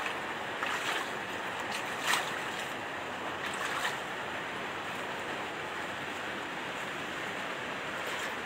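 Floodwater of the overflowing Tullahan River in Caloocan during a typhoon, rushing as a steady, loud broadband roar throughout with a few brief splashes, no voices.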